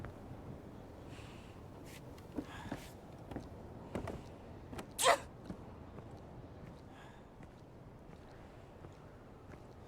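A single short sneeze bursts out in an Indiana Jones video game, standing out briefly from faint ambient game noise and scattered soft clicks.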